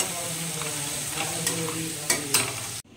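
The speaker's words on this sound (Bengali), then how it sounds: "আলুটা এখন ভালো করে কষানো হবে।" Spiced potatoes for aloo dum sautéed in a pan, with a steady close sizzle of oil and several sharp scrapes of a spatula stirring through the pan before it cuts off abruptly.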